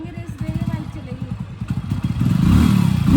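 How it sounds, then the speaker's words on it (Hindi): A village motorbike pulls away as the clutch is let out slowly, the engine thudding in pulses, then rising into a louder, steadier drone near the end, with voices heard over it. "क्लच धीरे धीरे छोड़ेंगे, रेस देंगे, बाइक चलेगी।"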